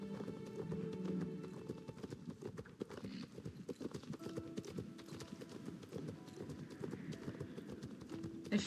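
Steady clip-clop of horse hooves while riding in Star Stable, a continuous trotting rhythm close up with game music underneath and no talking.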